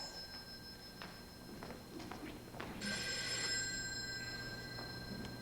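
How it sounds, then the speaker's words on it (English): Telephone ringing in a stage play performance, a sustained electronic ring entering midway and continuing steadily over a low room hum, with faint stage movement before it. "You suppose you could answer the phone?"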